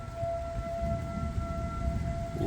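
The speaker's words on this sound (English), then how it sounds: "this is our first real storm since we've been in the house, and those are tornado sirens" Tornado warning sirens wail steadily during a storm, a constant tonal drone over low rumbling wind noise, heard from a house with no one speaking.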